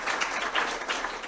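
Brief, faint clapping from a conference audience at the close of a session, a soft patter of hands heard at a distance.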